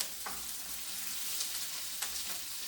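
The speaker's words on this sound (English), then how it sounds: "I'm going to drop in the garlic on one side." Garlic frying and sizzling in a pan alongside carrot while cooking green cabbage with egg, a steady close hiss with a couple of brief louder crackles, no talking.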